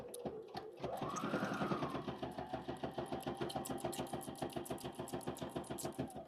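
A sewing machine runs a fast, even stitch on a small fabric wallet, its needle hammering in a steady rapid rhythm after a brief start-up whir, close and unaccompanied by talk.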